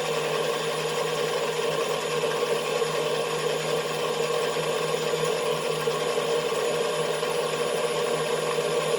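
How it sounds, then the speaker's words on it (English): A stand mixer fitted with a dough hook stirs eggs, giving a steady, loud whirring and ratcheting mechanical drone that runs unbroken, with no talking. "mixer and I have my dough hook on it. My dough hook attachment here. And I give it a stir."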